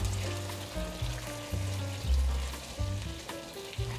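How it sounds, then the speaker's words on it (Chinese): Vegetables and chili paste being stir-fried with coconut milk in a pan for vegan rendang, a steady soft sizzle under a muffled rhythmic scraping and stirring, with no talk. "现在放入椰浆150 cc， 把所有食材拌炒均匀"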